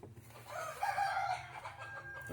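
Native country chickens cluck and murmur nearby as their coop is opened in the morning, in a short, rising call, with a low background hum beneath.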